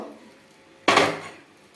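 Fried bhola fish on a banana leaf gets flipped in a pan with one sharp clattering knock. A brief sizzling hiss trails off after it against quiet kitchen background.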